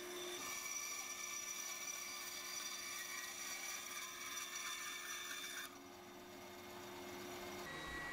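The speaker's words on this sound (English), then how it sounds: "Then I can get these cut out on both sides using the bandsaw." A bandsaw cuts through pieces of oak in a woodworking shop, a steady whirring rasp with a high whine that holds for several seconds, then drops off as the cut ends and the motor keeps running.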